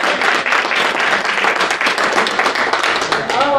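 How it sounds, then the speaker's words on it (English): An audience at a post-show discussion of a stage reading for a Women's History Month special claps loudly and steadily for about four seconds, with cheering voices mixed into the dense applause. "Let's give a round of applause"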